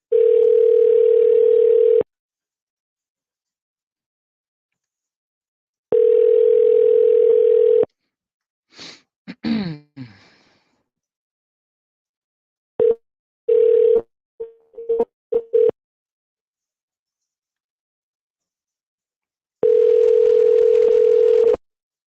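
Steady telephone dial tone comes in three long bursts separated by silence, with a short stretch of touch-tone dialing beeps and some faint clicks between them while a call is placed.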